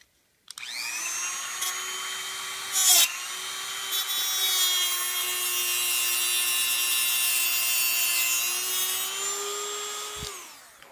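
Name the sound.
cutting a 1/8 inch aluminum rod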